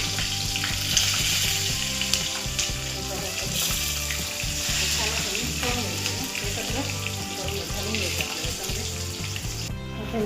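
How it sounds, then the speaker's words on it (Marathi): Stuffed capsicum chillies fry in a hot pan, with a steady close sizzle and crackle that continues throughout, along with occasional stirring scrapes. "मिरची छान फ्राय झाली आहे"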